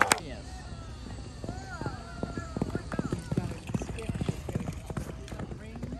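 A horse gallops at full speed during cowboy ring-spearing games, its hoofbeats a fast, steady clip-clop up close, with occasional neighs and a crowd voice talking over the run.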